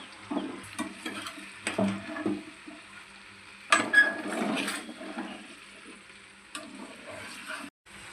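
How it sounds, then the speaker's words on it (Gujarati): A spoon stirs okra and potato curry with spices in a pan. There are scraping strokes and a soft sizzle, with irregular bursts of clatter and quieter gaps between them. "હવે મેં આને બરોબર હલાવીને મિક્સ કરી લીધું છે."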